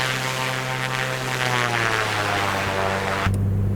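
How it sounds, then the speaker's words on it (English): A smooth-running propeller aircraft engine drones steadily in flight, a loud continuous tonal hum with a slight shift in pitch near the end. "Such a smooth running aircraft."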